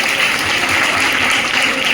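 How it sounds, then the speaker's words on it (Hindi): Loud, dense applause from a political gathering honoring an assembly election winner, steady clapping filling the whole moment with no speech over it. "जोरदार तालियां।"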